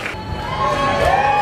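A crowd at an outdoor chilli eating contest cheers and whoops, with children's shouts rising toward the end, loud and near.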